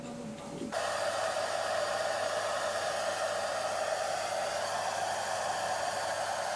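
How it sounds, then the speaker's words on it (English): A vacuum cleaner with a net fitted over its nozzle, used for catching ladybugs, switches on after a brief quieter start and then runs with a steady, loud, even whoosh to the end. "A net is attached to the nozzle of a vacuum cleaner,"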